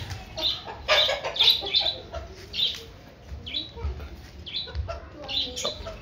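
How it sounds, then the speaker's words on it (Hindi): Soft, low clucks from a hen repeat irregularly close by, mixed with faint chirps and some background rustling. "हमारी मुर्गी ने अंडे दिए और ये अंडों को देखती है।"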